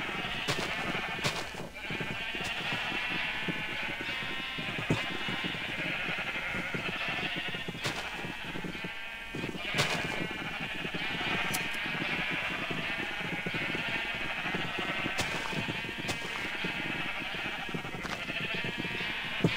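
Sheep bleating in the video game Minecraft, a dense run of repeated wavering bleats from several animals at once, loud and continuous against faint clicking game sounds.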